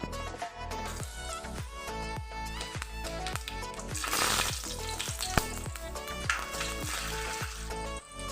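Nigella seeds and split green chilies temper in hot oil with a steady, dense sizzle and crackle, close and fairly faint, with rhythmic scraping or stirring strokes running through it and no talking.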